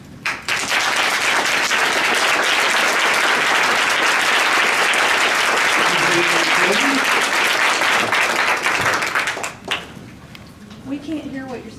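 Loud, dense audience clapping fills a school board meeting room for about nine seconds, then cuts off abruptly, leaving room noise and a voice speaking afterward.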